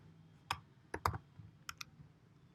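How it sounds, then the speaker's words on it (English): Typing on a computer keyboard, a handful of separate sharp key clicks near the microphone, faint and irregular, over quiet room hum. "I'm going to be typing my file name"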